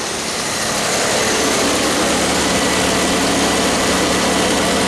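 A Pontiac Grand Am with a 3.4 engine idles steadily just after starting, a close, continuous engine drone with a low rumble and no talk over it.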